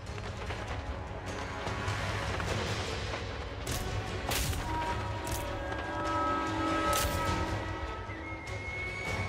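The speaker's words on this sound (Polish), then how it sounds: "Strzały, strzały, fajnie, fajnie." Sustained gunfire with sharp bursts and booms over a dense, continuous din of battle noise in the video game Total War: Warhammer III.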